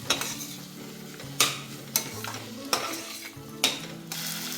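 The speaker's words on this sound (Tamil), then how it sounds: "இப்போ சின்ன வெங்காயம், இதுவும் நல்லா வதங்கட்டும்." Small shallots sautéing with turmeric in a pan for a Kovai-style rice and lentil dish: a steady close sizzle broken by several sharp spoon scrapes and knocks against the pan, with no talk.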